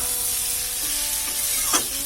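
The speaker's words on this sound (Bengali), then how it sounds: "এই টমেটোটা দিয়ে একটু নাড়াচাড়া করে" Chopped tomato frying in a pan sizzles steadily while a utensil stirs it, with a couple of brief scraping strokes near the end.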